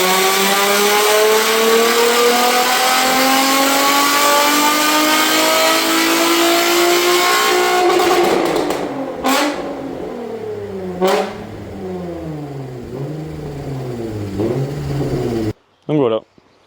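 A Nissan 350Z on a dynamometer revs hard, its engine note climbing steadily for several seconds before breaking into sharp up-and-down revs, then cutting off abruptly at the end.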